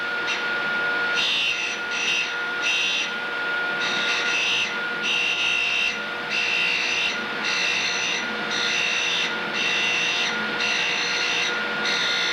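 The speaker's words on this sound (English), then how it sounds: "While rotating the air bearing, feed the countersink into the wheel. Keep grinding until you've achieved a uniform finish around the cutting edge." A countersink's cutting edge is ground on a grinding wheel on a Cuttermaster sharpener with a taper attachment, giving repeated rasping strokes about every second over a steady motor whine.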